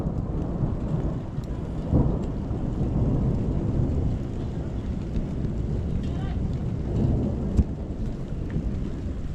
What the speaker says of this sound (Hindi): अब हमारे इधर बारिश आ रही है।